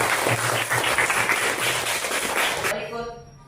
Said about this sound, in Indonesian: tepuk tangan untuk Bagas.